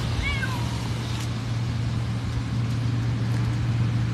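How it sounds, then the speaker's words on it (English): A cat gives one short meow near the start, fairly faint beneath constant road traffic rumble and a low hum. "Astro Kitty says hi to you all"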